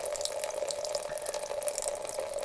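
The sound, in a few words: water running from a tap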